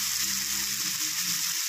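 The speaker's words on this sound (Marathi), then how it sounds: "छान असं हे आपण परतून घेऊया।" Onion, tomato, turmeric, Kashmiri red chilli powder and ghati masala sautéing in a pan, giving a steady close hiss and sizzle with faint stirring scrapes.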